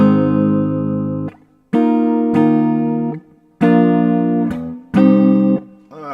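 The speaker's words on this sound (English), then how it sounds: "playing 7 chords, full triads." Guitar strums full-triad seventh chords in four separate ringing blocks, each sustained about a second before cutting off, close and loud with no talking.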